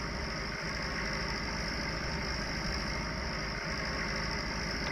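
An IMT tractor engine in Farming Simulator 19 runs steadily under load while working a winch to drag logs, a continuous droning rumble with a faint knock, even in level and alone without voices.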